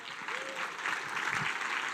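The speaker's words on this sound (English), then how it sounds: "this one will be presented with a polite round of applause for Annabelle Denford" A polite round of applause at an awards ceremony for a secondary-school racing competition's national finals, close steady clapping from the audience with a few faint voices underneath.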